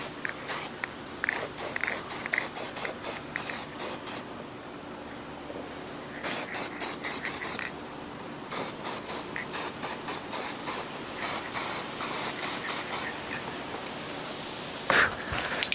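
Repeated bursts of aerosol spray paint hiss in short, rhythmic pulses as black paint is applied to a Lexan RC car body, with pauses between passes and a few faint handling noises.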